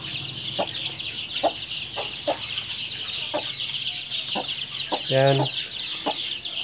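A mother hen clucks near her growing chicks in a poultry pen, a steady string of short, rhythmic clucks over a constant insect-like hiss, with one brief spoken word.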